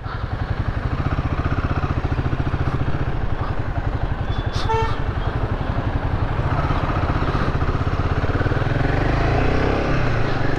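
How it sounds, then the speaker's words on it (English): A Royal Enfield Himalayan 450 motorcycle being ridden on real-world roads, its engine thrumming close and steady as it revs. A brief horn toot from traffic cuts in partway through. "The engine revs up very quickly."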